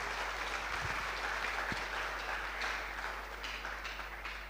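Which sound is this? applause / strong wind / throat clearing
applause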